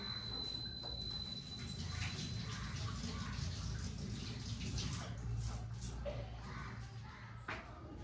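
Prawns being washed under a running tap, a steady rush of water with splashing and handling throughout, and a voice speaking faintly over it.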